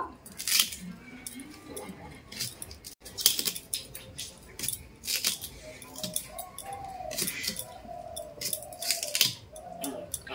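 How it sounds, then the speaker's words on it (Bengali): Hog plums (amra) being cut on a boti blade, repeated crisp chopping and slicing clicks at close range, with a faint bird call in the background. "এরপর বটিতে কিন্তু কেটে নেব"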